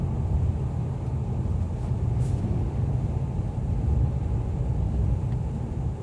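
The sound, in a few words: 2014 Nissan Xterra engine roar while driving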